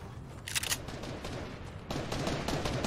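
Video game gunfire crackles in quick faint bursts, rapid volleys heard briefly at a distance under low background noise.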